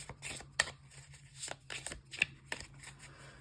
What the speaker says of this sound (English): again, just shuffle the cards